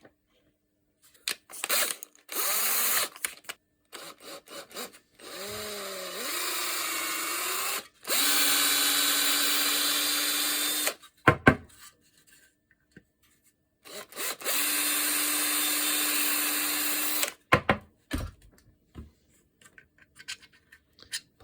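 A handheld power drill with a 4.2mm bit bores an insert clearance hole in a printed robot hand part, several whining bursts of a few seconds each, speeding up and slowing, separated by clicks and quiet handling.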